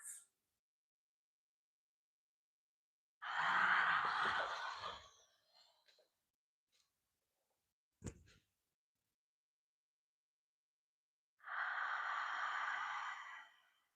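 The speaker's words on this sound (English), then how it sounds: "Breathing in. Breathing out." Ujjayi breathing during a gentle yoga sun salutation practice: two long, audible breaths, each lasting about two seconds with a soft hissing texture, separated by quiet, plus a brief sharp click in between.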